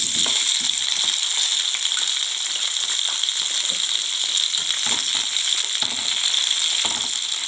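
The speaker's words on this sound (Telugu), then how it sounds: "ఇది చక్కగా డీప్ ఫ్రై అవ్వాలండి" Tomatoes deep frying in plenty of hot oil give a loud, steady crackling sizzle with dense popping that carries on throughout.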